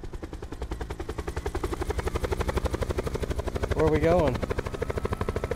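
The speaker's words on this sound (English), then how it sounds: "Let's get in the chopper." A helicopter in Call of Duty: Black Ops 4 Blackout mode, a loud, close rotor thump chopping in a fast steady rhythm throughout, with a voice speaking briefly over it.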